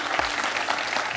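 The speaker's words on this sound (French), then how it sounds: "Un point pour François, qu'on peut applaudir également." Studio audience on a French television quiz show applauding, a short steady burst of clapping from a crowd, moderately loud and alone.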